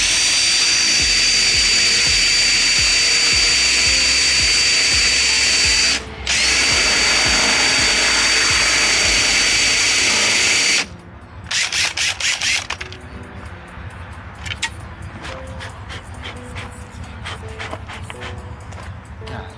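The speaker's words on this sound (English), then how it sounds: "I've been using this one drill bit and just widening the hole so it can come through." A power drill whines steadily for about ten seconds with a brief pause, widening a hole in a fiberglass bumper on a Dodge Charger Hellcat, then gives way to quieter rattling and intermittent clicks and scraping.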